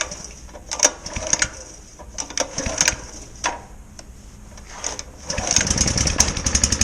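A walk-behind lawn mower that had refused to start fires up at the first pull, with mechanical clicks and rattles giving way to a steady close-up engine drone.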